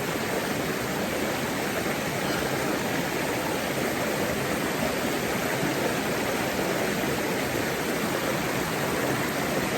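River water in Jamaica rushes past in a steady, dense broadband wash, close and continuous with no breaks and no voices over it.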